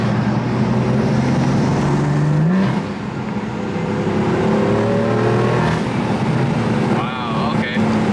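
A BMW F80 M3 with resonated downpipes revs hard and climbs in pitch through the gears, loud and close, with the roar rising steadily over several seconds.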